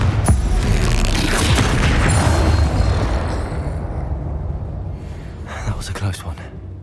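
A loud booming blast from a Confringo spell in the Hogwarts Legacy video game rumbles and fades over several seconds, followed by fainter crackling impacts.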